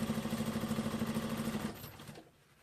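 Sewing machine stitching a drop shoulder shirt, a fast regular mechanical chatter for under two seconds, then slowing and stopping, close and clear with no talk.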